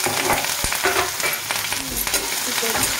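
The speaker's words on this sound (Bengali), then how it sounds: "একটু ভাজা ভাজা করে নেব।" Grated ginger and green chili fry with five-spice (panch phoron) in a kadai, a loud dense crackling sizzle with stirring scrapes throughout, close and steady.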